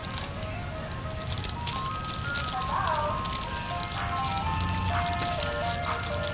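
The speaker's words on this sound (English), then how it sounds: "There goes two ice cream trucks. I can't believe we have two ice cream trucks." Two ice cream trucks, old Chevy vans, roll past playing their jingles, including Turkey in the Straw, with melodic chime tones wavering over road rumble and engine noise; the music stays fairly steady and mid-distance, with faint voices in the background.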